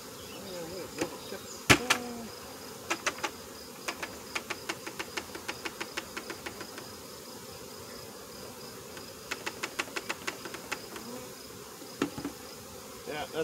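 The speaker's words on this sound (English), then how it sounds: "Yeah, that's way too many bees again" A steady honeybee buzz hums throughout around a hive, with a series of sharp clicks and taps at intervals over the drone.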